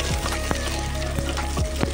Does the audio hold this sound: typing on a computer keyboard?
no